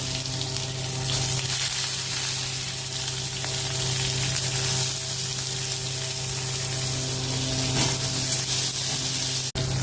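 Onions frying in a pan with a dried red chilli and five-spice seeds (panch phoron) for a Bengali snake gourd dish, a continuous close hiss of oil sizzling throughout, with a sharp knock right at the end.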